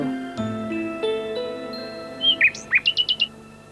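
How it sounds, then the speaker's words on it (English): A bird sings a short run of bright chirps and trills over a sustained musical tone, the repeated notes rising near the end, close and clear, attributed to a nightingale. "Nightingale."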